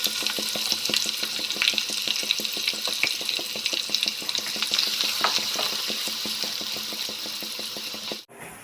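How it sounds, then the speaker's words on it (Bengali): Onions sizzle steadily in hot white oil in a kadai while a kabuli pulao is being made. The frying hiss is close and even, with no talk, and it ends in a brief thump. "তেল গরম হয়ে গেছে, এবারে আমি পেঁয়াজটা দিয়ে দিলাম"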